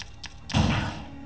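A single heavy, muffled gunshot boom from Resident Evil 2, preceded by faint clicks, with a short decaying tail.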